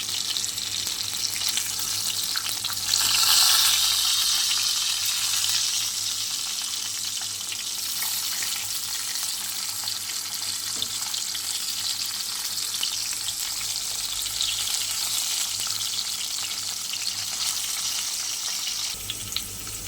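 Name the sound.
tilapia fish frying in a pan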